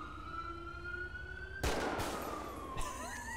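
Police car siren in the video game GTA V, a steady wailing tone. It is abruptly overtaken by loud bursts of gunfire and a second rising siren sweep.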